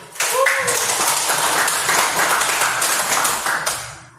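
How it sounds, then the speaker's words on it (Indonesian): A group claps together in a burst of quick, overlapping handclaps, loud and close, sustained for a few seconds before trailing off. "Kalau senang tepuk tangan dulu."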